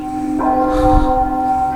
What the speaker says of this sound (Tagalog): Ingay ang batingaw.